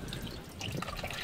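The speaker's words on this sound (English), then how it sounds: "The oil is draining out" Engine oil draining from a Toyota MR2 Roadster with a turbocharged 1ZZ engine: a constant wet trickling and splashing of liquid at close range, steady throughout with no voices.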